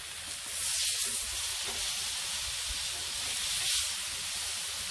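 Burgers sizzling on a Blackstone griddle, a steady loud hiss and crackle of frying meat that swells and fades slightly, heard up close with no talking.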